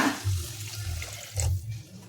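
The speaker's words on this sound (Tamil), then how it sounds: "நல்லா கலக்கி விட்டு தேவையான தண்ணி ஊற்றுங்க" Water poured into egg gravy cooking in a pan, a short, soft splashing pour lasting about two seconds, close and fairly quiet, with no talking.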